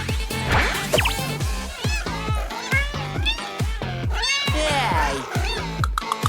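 Cartoon cats, people transformed into paper cats, meow and caterwaul in a rapid, overlapping chorus, with steady rhythmic thumps beneath and loud, close, high-pitched cries throughout.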